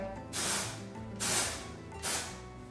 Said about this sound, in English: So I'm just gonna put a little more of this texture spray.